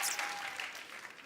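Studio audience clapping to welcome film director Umang Kumar on a comedy talk show stage, a brief wash of applause that fades slightly, no voices over it.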